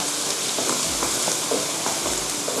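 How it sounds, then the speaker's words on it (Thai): Minced garlic drops into hot oil and fries in a steady, bright crackling sizzle, close and even throughout with no voices. "พอน้ำมันร้อนดีแล้วก็ ใส่กระเทียมลงไปเลยค่ะ กระเทียมสับนะคะ เจียวให้เหลืองหอมนะคะ"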